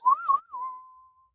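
A person whistles a short tune alone: two quick rising and falling notes, then one long, steady tone that fades away.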